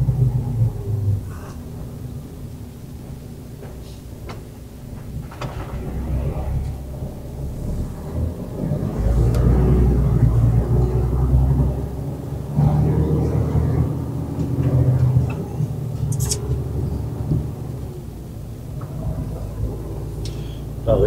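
A car drives steadily straight ahead, its engine and road noise making a continuous low rumble that swells in the middle stretch, with occasional brief clicks and knocks over the drone.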